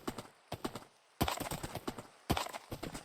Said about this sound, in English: Very good horse.